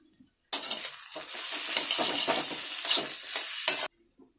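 Pumpkin leaf paste being stirred in a pan, a continuous scraping, gently sizzling sound lasting a few seconds, close and fairly loud, with brief sharper clinks of the spoon against the metal.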